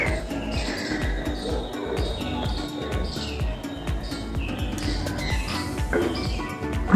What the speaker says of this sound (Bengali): পাখির ডাকে চারিদিক।